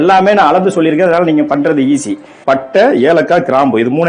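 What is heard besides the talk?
No everyday noise stands out behind the speech.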